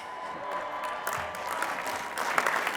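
A large commencement crowd at a university graduation gives the new graduates sustained applause, a dense, steady wash of many hands clapping with faint cheering mixed in, heard from a distance across a big venue.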